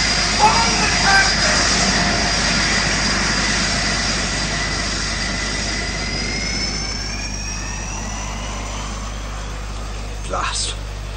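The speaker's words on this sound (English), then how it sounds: "Hey, my plane is going." Airplane taking off as a radio drama sound effect, a loud sustained jet roar with rising whine that slowly fades into the distance, briefly under speech.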